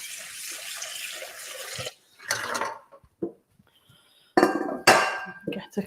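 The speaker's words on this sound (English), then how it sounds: "you can hear all the washing up noise there. Let's just rinse that off." Dishes being washed up and rinsed under a running kitchen tap: a stretch of steady flowing water, then scattered splashes and sharp clinks of crockery in short, close bursts.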